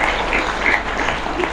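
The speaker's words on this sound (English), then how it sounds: "Can we give them a big round of applause?" An audience applauds a choir after an evening of singing, a short burst of steady, fairly close clapping with no voices over it.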